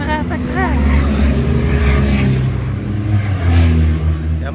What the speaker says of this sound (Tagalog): Yung mga motor na yan, yan ang support ng mga bike, ng mga racer, saka media.